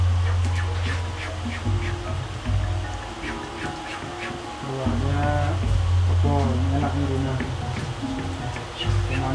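Goats bleat in wavering calls now and then over a steady low droning hum, fairly close.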